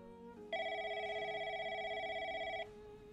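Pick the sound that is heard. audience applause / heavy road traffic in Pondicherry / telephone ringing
telephone ringing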